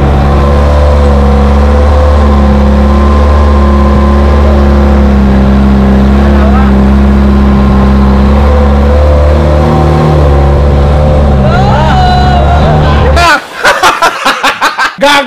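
A loud, steady motorboat engine drone throughout, shifting pitch as it revs, with people talking over it and a burst of choppy noise at the end, while island hopping.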